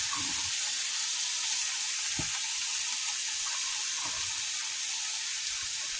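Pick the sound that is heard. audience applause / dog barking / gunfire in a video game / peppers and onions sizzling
peppers and onions sizzling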